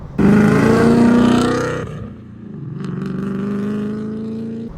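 Ford Mustang GT exhaust fitted with a Bassani H-pipe, a loud deep bassy rumble with slight rasp that revs up, eases off, then swells again in a second throaty pull.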